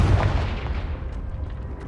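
A Confringo blasting spell explodes in Hogwarts Legacy near a cave entrance: a single loud boom that rolls off and fades over about two seconds.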